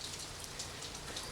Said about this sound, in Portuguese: O barulho da chuva agora assusta a gente.